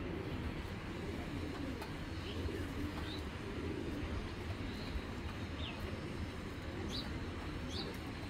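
Blue-eyed female pigeon cooing softly amid a steady, dense background of rustling and other birds, with a few faint higher chirps scattered through.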